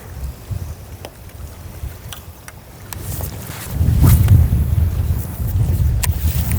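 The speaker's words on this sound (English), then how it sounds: "As noontime approaches, the wind is the strongest it's been all day." Strong wind gusts across a lake while fishing from a boat during a bass tournament. The roar of buffeting wind grows louder partway through, with low rumbling and a few faint clicks.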